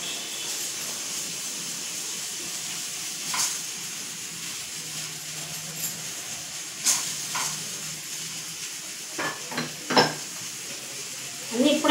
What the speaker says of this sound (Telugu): నిదానంగా అట్లా ఫ్రై అవుతూ ఉంటుంది